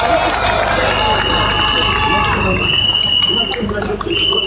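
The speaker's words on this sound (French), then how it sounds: "Let's put our hands together for Honorable Nietzsche again," Crowd noise at an outdoor political rally on the Place de la République in Paris, a dense, steady roar with babble and cheering carrying throughout, loud and close with a few whistles on top.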